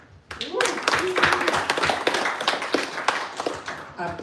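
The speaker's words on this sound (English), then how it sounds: "let's give a huge round of applause to everyone who shipped an app at the OSS Hackathon" An audience claps for hackathon presenters who shipped apps, a burst of applause rising quickly after a quiet start and holding steady, with cheers and voices mixed in among the claps.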